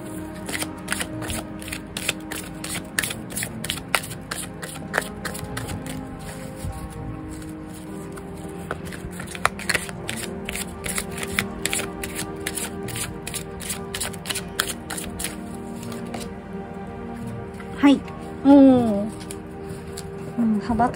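Tarot cards are shuffled in a rapid, repeated riffle of crisp card slaps and clicks, steady and close for most of the stretch. Talking comes in near the end.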